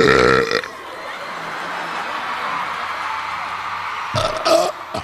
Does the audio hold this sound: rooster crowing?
no